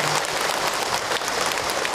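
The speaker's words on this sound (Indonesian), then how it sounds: "Tepuk tangan dong buat kita semua yang hadir hari ini." Loud applause from a crowd at an Islamic religious talk, a dense, rain-like patter of clapping that stays steady and close for the whole span.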